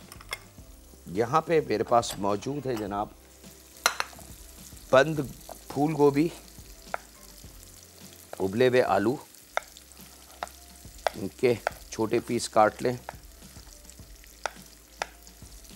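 Onions fry in a pan in a home-style kitchen, giving a soft, continuous sizzle with some stirring. The sizzle stays in the background beneath someone talking in several bursts.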